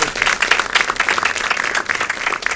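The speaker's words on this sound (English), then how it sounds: "give him a round of applause" Audience at a quiz-show event clapping in a brisk, continuous round of applause, fairly close and steady throughout.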